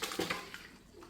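Blanched papaya for atchara drained through a strainer into a basin, a short splashy pour of water lasting about a second, close and moderately loud.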